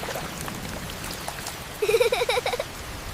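Steady rain pours on a family sheltering under a taro tree during the rainy season, making a constant close hiss, and a short, bright chirping call rises briefly above it partway through.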